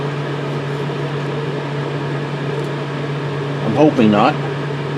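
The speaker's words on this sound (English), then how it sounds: "sorry if you guys hear a loud fan running and all that, and which you do. That's my swamp cooler." A loud swamp cooler fan in a garage drones with a constant low hum and airy whoosh throughout, while someone speaks briefly near the end.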